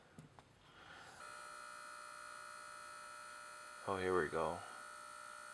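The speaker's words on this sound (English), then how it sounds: "So you can definitely hear the printing process." A Polaroid GL10 Pogo printer prints a photo, giving a steady electronic hum and whine that runs unbroken for several seconds, while a person speaks briefly partway through.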